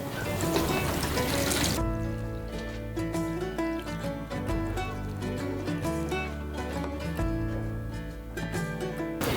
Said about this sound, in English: So I'll water them.